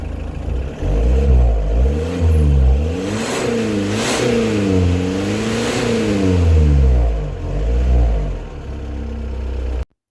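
A Land Rover Freelander 2 engine with a snorkel fitted revs up and down through several smooth rises and falls, loud and close, then cuts off abruptly.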